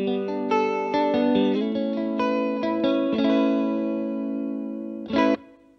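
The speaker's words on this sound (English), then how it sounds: "I will take the rate and time and put them at zero, and it gets a chorusing effect" Electric guitar run through a FlyRig pedal with delay rate and time at zero, giving a shimmering chorus effect on sustained chords and notes, close and clear, ending with a short strummed accent.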